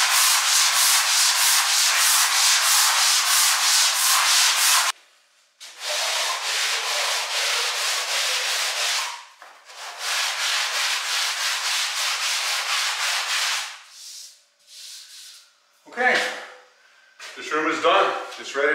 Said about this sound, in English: Takes a very light sanding.